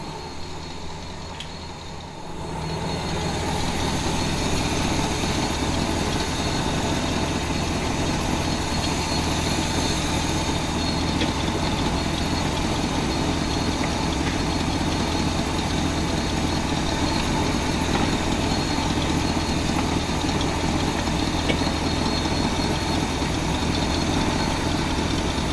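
A truck engine idles steadily just after air filter work, a constant low rumble with a faint knock running close and uninterrupted, starting up after a brief quiet moment.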